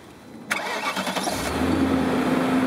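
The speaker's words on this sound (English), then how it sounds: "go start your engine." A BMW car engine cranks briefly and catches, then settles into a steady, fairly loud idle with a low hum, heard close up in a garage or driveway setting during a cooling system flush.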